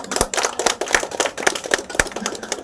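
A crowd at a village festival prize announcement claps together in a dense, loud, slightly irregular burst of applause that carries on steadily from start to finish.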